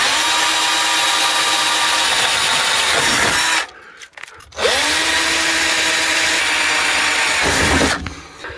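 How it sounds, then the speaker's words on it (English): A power drill bores holes into a sliding door window inner panel, running loud and steady in two long bursts separated by a short pause, with no talking. "Now I'm just going to drill the holes."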